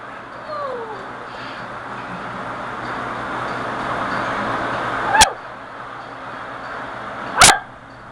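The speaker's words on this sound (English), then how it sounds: "My dog is just not going to shut up." A dog barks twice, sharp and fairly close, several seconds apart, over a steady background hum.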